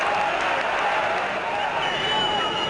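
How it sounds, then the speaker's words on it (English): A sparse Burnley football crowd applauds and cheers a goal from a deflected free kick against the Dons, a steady, dense wash of clapping and shouts that holds at the same level throughout. "Robbie Blake's free kick taking a wicked deflection, celebrated by a sparse Burnley crowd"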